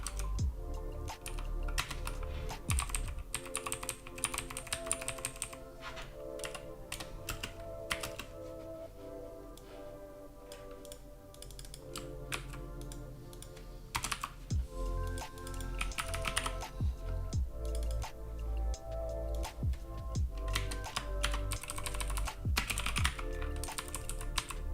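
Continuous typing on a computer keyboard while writing Python code, a dense, close patter of keystrokes running throughout over a constant tonal hum in the background, with no speech.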